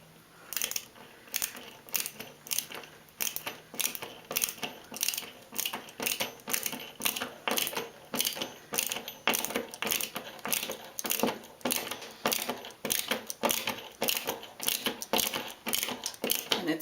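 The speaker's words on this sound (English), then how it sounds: "you put the screw through the plate and use a screwdriver and you just screw it right into the drywall anchor" A handheld screwdriver drives a screw through a towel rack mounting plate into a drywall anchor: steady, rhythmic ratcheting clicks, about one burst every half second, close but fairly quiet, with no talking.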